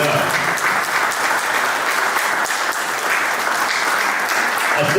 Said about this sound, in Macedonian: И поздравивте секој од нив со еден аплауз поединечно.